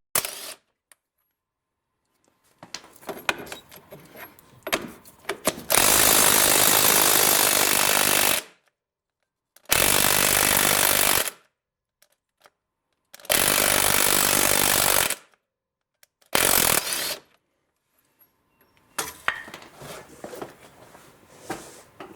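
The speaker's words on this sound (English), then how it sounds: "we're going to first see here if I can get them with the impact wrench" An impact wrench hammers at the strut nuts on a 2007 Chevy Equinox in several loud, close bursts of a few seconds each, separated by quieter pauses with faint workshop clatter.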